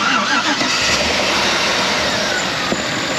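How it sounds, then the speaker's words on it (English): A car engine idles steadily after being started, a continuous broadband running noise with the AC on full and high beams lit, close and loud, with no clear cranking burst. "Okay, engine start complete."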